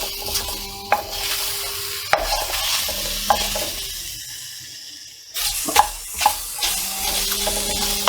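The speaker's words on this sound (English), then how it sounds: "So I need to continue stirring so the garlic doesn't stick to the pan and make a big burnt mess." Garlic frying in a pan while being stirred continuously, a bright sizzle with repeated spoon scrapes and clinks, pausing briefly midway before the sizzling and stirring resume loudly, close up and without speech.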